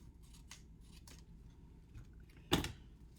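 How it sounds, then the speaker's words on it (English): Scissors snip paper once, a single loud crisp cut near the end after a few soft rustles and handling sounds while crafting a color-story card layout. "actually I'm going to cut"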